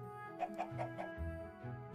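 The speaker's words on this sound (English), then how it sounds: "Oh yeah, there's like chickens down there." Chickens cluck in a Minecraft-style survival server game, a quick run of four soft clucks over a low, steady background tone.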